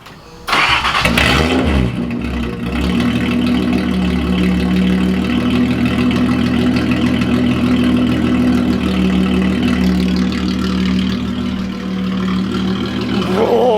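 Datsun with a new MSA performance exhaust cranking and firing up, then settling into a loud, steady, rumbling idle close by for over ten seconds, with a slight dip in level near the end.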